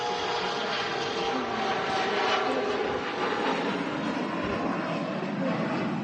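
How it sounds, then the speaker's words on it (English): A departing Scandinavian airline CRJ 900 jet bound for Copenhagen roars steadily at Manchester Airport, a loud continuous broadband engine rush that holds level without pause, no voices. "Another Scandinavian departing there."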